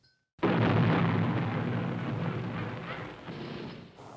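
A black powder blast in a coal mine gallery in northern France, one loud boom followed by a long rumbling roar of falling rock that slowly fades over several seconds, with no talk.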